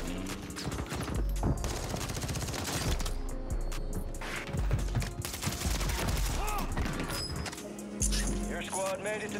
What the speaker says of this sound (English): Glock with a switch, hitting with a big.